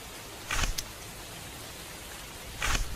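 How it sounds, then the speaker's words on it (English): Steady hiss of rain in the Abathor demo video game, a soft continuous wash with no music, broken by two brief louder bursts of noise. "Just hear the dreading sound of rain."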